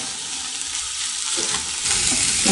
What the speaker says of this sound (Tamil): இடையில கீரையை நல்லா பெரட்டி விட்டுக்கோங்க